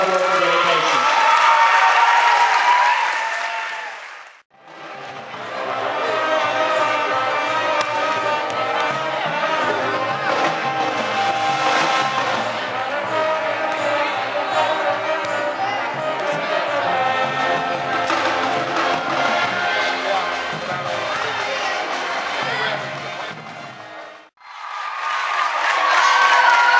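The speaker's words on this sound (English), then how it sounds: "Big round of applause for all these seniors and all their hard work and dedication." A crowd at a high school girls' basketball senior recognition claps and cheers, with whoops and children's shouts mixed into a long, loud, steady swell of noise between brief bursts of an announcer-style voice at either end.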